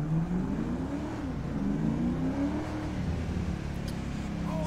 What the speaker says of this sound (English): The chargers have all had their friggin' engine sounds fixed, so they sound a lot better now